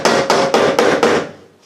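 Hammer striking a welded steel car body panel on a Daihatsu Charade rear corner repair, five evenly spaced metallic taps close and loud, ringing out briefly after the last blow, with no voices.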